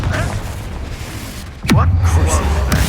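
A Confringo blasting spell in Hogwarts Legacy goes off partway through as a sudden whooshing burst that settles into a loud, sustained low rumble, following a stretch of quieter spellcasting ambience.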